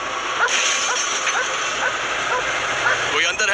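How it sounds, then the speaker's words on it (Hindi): A dog barking at a parked car during a search, short yipping barks repeating at a steady pace over constant loud background noise. "सेज इस कार पर भौंक रही है।"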